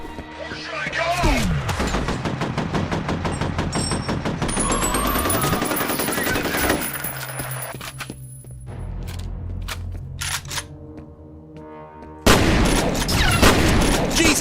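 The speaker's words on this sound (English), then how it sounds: "Jesus, he's got a fucking railgun!" A railgun firing in a video game: heavy rapid bursts and booming blasts with sweeping electronic tones, loud and dense, dropping briefly before a final loud burst.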